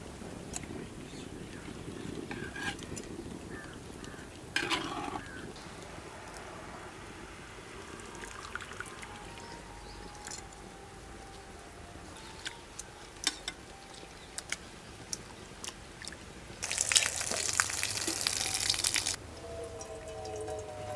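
Spinach being blanched in boiling water and moved into plain water, with light drips, clinks and small splashes, then a loud rushing pour or splash for a couple of seconds near the end, close and without speech.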